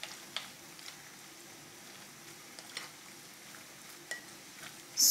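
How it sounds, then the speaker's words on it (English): Beef being stirred in a pot with seasoning, faint scraping and clinking of a utensil with a light sizzle underneath, quiet and close, with a louder clatter at the end and no voices. "Stir that in properly. Make sure that everything goes inside the meat."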